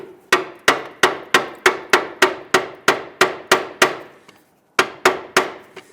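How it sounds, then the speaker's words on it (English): A pry bar tapping a CV axle into the front differential of a 2011-2021 Jeep Grand Cherokee, giving about fourteen sharp, evenly spaced metallic strikes, close and ringing, with one short pause near the end. "Tap it in until the CV axle is fully seated inside the differential."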